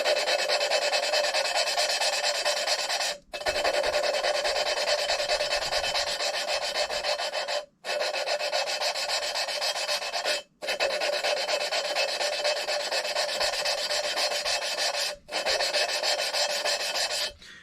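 Hand lapping engine valves against the cylinder head seats of an LS4 V8 gives a steady, gritty rasping close by, continuing in long runs broken by four short pauses, with no talking.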